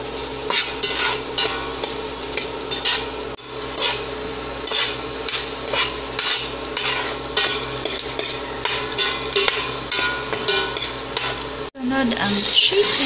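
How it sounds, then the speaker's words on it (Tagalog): Garlic and onion sauté in melted butter in a pot, a loud, close sizzle with rhythmic stirring scrapes and clinks of a utensil against the metal, briefly pausing near the end. "Sunod, igisa ang bawang at sibuyas."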